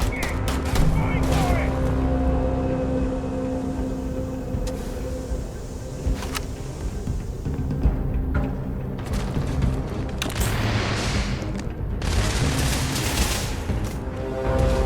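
Bursts of gunfire crack and boom through a dense, loud in-game mix in the space game Starfield, layered with continuous background noise and rumble.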